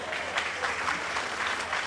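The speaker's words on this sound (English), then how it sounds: "They're clapping now" Passengers on an Alaska cruise ship clap together in a close, lively burst with uneven individual claps, sustained throughout, with faint voices mixed in.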